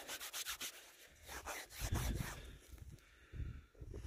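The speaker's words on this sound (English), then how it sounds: "Give it a little rub." Dirt being rubbed off a small old find just dug up while metal detecting, a series of short scratchy rubs, close and fairly quiet, with no talking.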